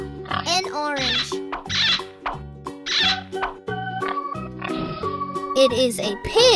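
Cartoon pig oinking in a children's farm-animal cartoon: a series of short, squeaky, comic grunts set against a cheerful musical backing.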